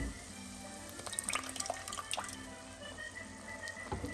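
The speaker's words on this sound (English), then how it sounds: "We're ready, we're going to deglaze." Liquid poured into a pan of slowly reduced buttered onions to deglaze for French onion soup, giving soft sizzling, bubbling and dripping sounds close by with a few brighter splashes, fairly quiet and with no speech.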